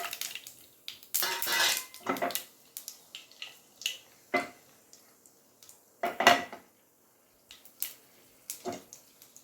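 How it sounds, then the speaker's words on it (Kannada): Mustard seeds splutter in hot oil for a tempering for cucumber sambar, then dried red chillies go in. Irregular sharp pops and crackles sound close and fairly quiet, with scattered louder bursts. "ಸಾಸಿವೆ ಸಿಡಿಯೋಕ್ಕೆ ಶುರು ಆಯಿತು, ಈಗ ಮೆಣಸಿನ್ಕಾಯಿ ಹಾಕ್ತಿದ್ದೀನಿ."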